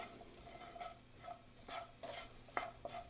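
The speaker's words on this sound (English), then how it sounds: "Stir that around and cook them up a bit." A spoon stirs a spice mixture into a simmering chickpea and vegetable stew, giving soft scraping strokes over a quiet sizzle, faint and close.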